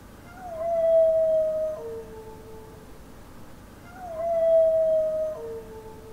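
A fox gives two long, drawn-out howls a few seconds apart, each a sustained wavering tone that drops in pitch at the end, clear and moderately near over a quiet hiss.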